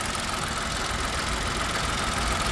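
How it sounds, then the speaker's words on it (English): A dusty but smooth-running car engine idles steadily with a faint fast ticking from the injectors, loud and close in a continuous even drone with no talk. "You can hear those little injectors ticking."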